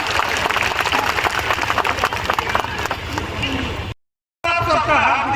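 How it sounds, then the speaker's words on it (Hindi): Loud crowd applause at a public event in Kunkuri, Jashpur, greeting Dr. C.D. Bakhla, a former nagar panchayat chairman; dense steady clapping with crowd noise runs about four seconds, breaks off abruptly, then resumes. "जोरदार एक बार उनके लिए ताली हो जाए।"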